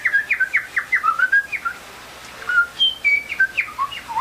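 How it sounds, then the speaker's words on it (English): Western Meadowlark singing a run of clear, fluting whistled phrases, moderately near and alone, with a brief pause midway before further warbled notes. "That's the Western Meadowlark."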